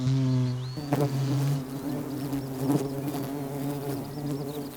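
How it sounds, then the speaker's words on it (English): Wild solitary bees buzz in a continuous drone, a steady near hum that shifts pitch as more insects arrive, with brief louder surges. "The buzzing noise soon attracts others."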